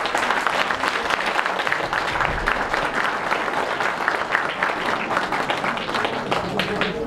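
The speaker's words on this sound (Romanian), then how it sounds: "aplaudați că merită pe deplin." Sustained applause from an audience at a Miss Casin 2016 beauty pageant evening, a thick, continuous patter of many hands clapping at full strength throughout, with no speech over it.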